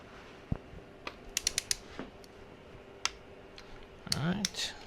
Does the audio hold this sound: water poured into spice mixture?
no